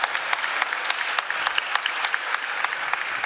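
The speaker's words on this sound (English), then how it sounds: "big round of applause for Hamish" An audience at a talk in London applauding a speaker: a steady patter of many hands clapping at moderate volume, with no voices over it.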